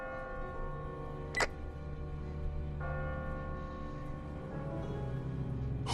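A church bell tolls in The Walking Dead game, two resonant strikes a few seconds apart, each ringing out and slowly decaying over a low ambient hum, with a sharp click between them.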